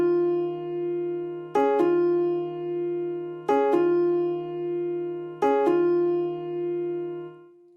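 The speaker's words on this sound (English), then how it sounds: "So this is made on Upright Felt Piano" Two-note chords on a felt-dampened upright piano sampled from a Kontakt library, struck in three evenly spaced pairs of quick strikes, each pair ringing and slowly decaying, clear and alone.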